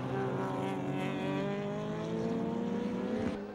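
Touring race cars at Oran Park in the 1991 Australian Touring Car Championship, engines droning loud and steady as they come onto the brakes, several overlapping tones sliding downward with falling revs.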